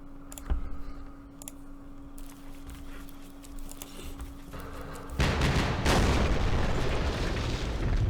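Mortar fire in Campaign Series Vietnam, a 1968 battle at Ba Ria: scattered clicks and faint distant thumps, then a loud sustained roar of explosions rumbling through the last few seconds, with no voices.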